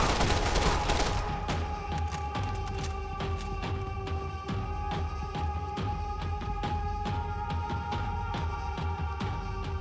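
Bursts of gunfire in a 2012 video game rattle at the player, dense shots at first and then scattered cracks and thuds over a constant low rumble of game sound, with no voice.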